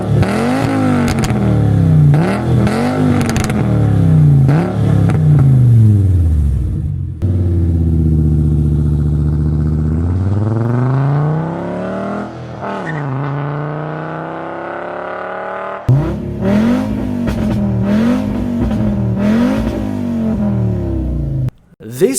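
A Volkswagen V5 five-cylinder car engine revs repeatedly, climbing and falling in pitch, then settles into a long rising pull before more sharp revving bursts.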